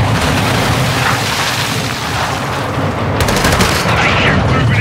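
Gunfight gunfire in the video game Dark Waters: a dense, continuous roar of loud automatic fire and blasts fills the whole stretch, with voices faintly under the din.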